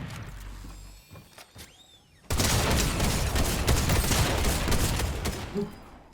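A drum gun in the video game Fortnite opens up after a few scattered clicks and thuds, becoming a dense, loud burst of rapid automatic fire that runs for several seconds.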